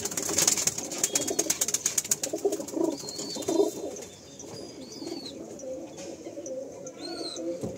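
Female pigeons in a home loft coo repeatedly in soft, low rolling calls, with a burst of fluttery wing movement near the start and steady cooing continuing close by.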